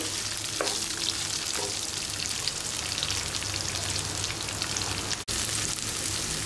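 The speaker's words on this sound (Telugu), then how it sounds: "ఈ విధంగా పచ్చిమిర్చి వేగుతున్నప్పుడే ఉల్లిపాయ ముక్కలను కూడా వేసుకోవాలి" Onion pieces and green chillies fry in hot oil in a pan for a purslane leaf curry, giving a steady, close, loud sizzle throughout with a couple of faint stirring knocks and no talking.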